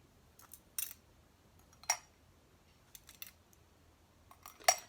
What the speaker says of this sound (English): The scissors sit right down into the flower frog holes.